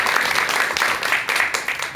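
An audience at a Korean Buddhist lecture gives a short burst of steady applause, dense clapping heard alone at moderate level.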